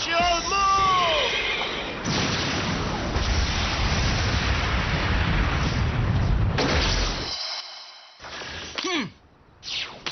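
Anime Beyblade battle special-move clash effect, a loud sustained roaring burst with booming impacts filling most of the stretch, then fading into shorter whooshing hits near the end.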